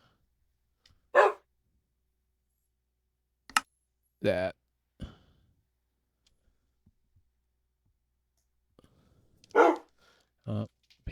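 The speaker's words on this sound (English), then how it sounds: "He barked again." A dog in a modded Minecraft world barks in a few short, separate bursts scattered across a mostly quiet stretch, with brief clicks and a faint spoken word between them.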